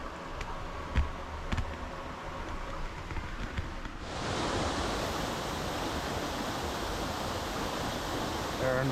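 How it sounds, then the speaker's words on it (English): A small waterfall on a stream in the Maratoto Valley, New Zealand, comes in as a steady rushing roar after a few footsteps and light handling noises, then holds loud and constant. "Aaron walking up to this cool little waterfall here."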